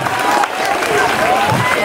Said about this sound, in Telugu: గడ్డి చప్పట్లు పెట్టండి